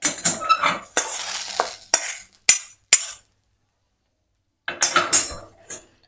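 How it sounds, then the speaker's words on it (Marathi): Green chillies being pounded with salt, stone-crusher style, for a rustic Maharashtrian moong pod amti: dense scraping and grinding strokes in short bursts, a few sharp knocks, then a silent gap before more crushing. "याच्यामध्ये गरमागरम अशा मिरच्या पण ठेचून घेणार आहे"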